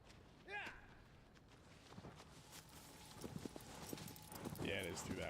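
Horse hooves clip-clopping in Shadow of the Colossus, a few slow, uneven footfalls as the horse starts moving, mixed with other game sounds and ambience at moderate level.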